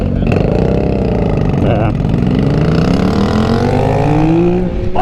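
A 2022 Yamaha MT-09 motorcycle engine runs loud and close as it is ridden, its pitch rising and falling through revs over a steady drone, with a brief spoken word over it.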